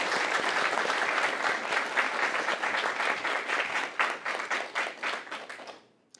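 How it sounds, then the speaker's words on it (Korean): Audience applause fills an academic award ceremony opening in a hall, steady and dense at first, then thinning into scattered claps and fading out at the end. "큰 박수 부탁드리겠습니다"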